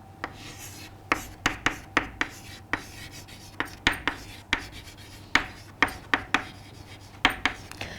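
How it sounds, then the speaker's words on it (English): Chalk or marker strokes on a classroom board during a chemistry lesson, a steady series of short scratchy taps and rubs in quick uneven rhythm, close and clear with no talking. "Let me write it down."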